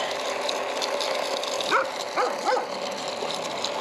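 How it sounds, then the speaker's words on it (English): A dog barks a few times outdoors in a yard while a cordless power fertilizer seed spreader runs, the short yips sitting moderately loud under a constant hissing, whirring background. "I got a dog that just loves to bark at me when I'm doing this"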